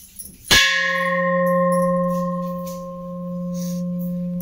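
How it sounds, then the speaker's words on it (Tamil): A 2.5-litre antique brass uruli cooking vessel is struck once and rings out like a temple bell, a sharp strike followed by a long, steady sustained metallic hum fading slowly. "இது பற்றி பார்த்தீங்கன்னா உருளிப்பாய். இதோட சவுண்டை பாருங்களேன்."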